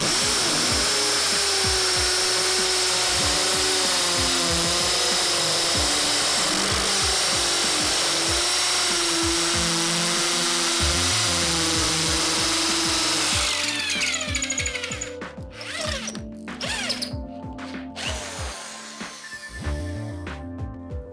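A 12 mm masonry bit in an impact drill bores into concrete, a loud continuous grinding, hammering drone that runs steadily, then breaks into stuttering, uneven bursts toward the end as the bit bites and stalls.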